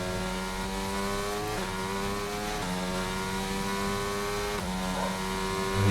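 An F1 race car in a video game during an online league race, its high engine whine holding steady and stepping through several sharp gear shifts, loud and close with no voices.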